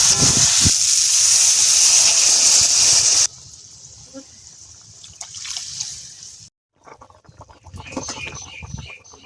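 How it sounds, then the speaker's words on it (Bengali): Water is poured into a pan of sea chela fish curry with potatoes, a loud rushing splash for about three seconds that drops to a softer sizzle, then quiet scraping and faint clinks. "এবারে দিয়ে দেব জল।"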